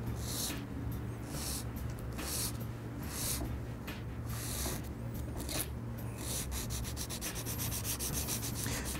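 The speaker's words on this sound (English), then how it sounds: "I'm gonna take my nail file. This is a 150 grit. And I'm gonna gently shape that C curve." A 150 grit nail file shapes an artificial nail with continuous close rasping strokes, fast and rhythmic, speeding into quicker short passes near the end, with no voices.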